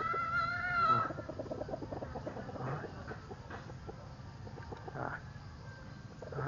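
Chickens cluck and call softly in the background, with one louder squawk near the start, amid low murmuring voices and ambient noise.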